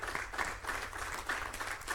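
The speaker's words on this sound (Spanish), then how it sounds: "Dele palmas al Señor." Church congregation clapping in rhythm during a Spanish-language Exodus Bible study service, steady moderate-volume handclaps with faint background murmur and no clear speech.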